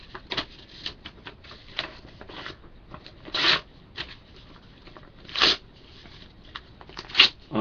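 A sheet of paper is torn into small bits by hand, heard as a series of short ripping bursts with a few louder tears standing out, close and alone with no talk.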